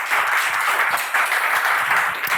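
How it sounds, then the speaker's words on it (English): Dense applause from a conference audience, a steady wash of many hands clapping together at an even level for a couple of seconds, with no talking over it. "So please give him a big round of applause."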